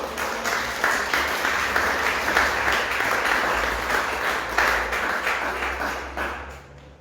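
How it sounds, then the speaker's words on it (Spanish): A church congregation applauds together during a Sunday service, sustained, fairly loud clapping that fades away over the last second. "Denle un fuerte aplauso a él,"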